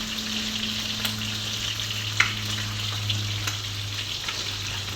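Galunggong fish sizzling in hot oil, a steady broadband crackle with a low hum underneath and a few sharper spits and pops from the pan, close and continuous with no talking.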